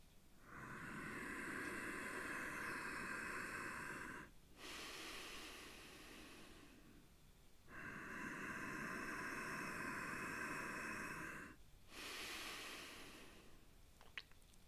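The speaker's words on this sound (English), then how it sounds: "The same can be accomplished using ocean breath, and it sounds like this." Ujjayi ocean breath in yogic pranayama: two long, steady, hissing breaths, each lasting several seconds, drawn through a constricted throat with a soft, oceanlike rush, close and alone with no talk.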